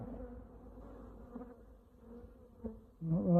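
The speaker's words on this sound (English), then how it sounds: "all the flying bees from a healthy colony" Honey bees flying from a healthy colony make a steady, soft buzzing hum with occasional nearer passes, swelling to a louder close buzz at the very end.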